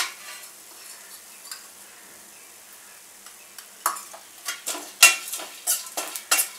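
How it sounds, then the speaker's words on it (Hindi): Sun-dried onion roasts in a little oil, heard as faint, scattered scrapes and clinks of a stirring utensil against the pan that grow busier toward the end. "थोड़ा सा तेल डाल के इसे भून लेते हैं।"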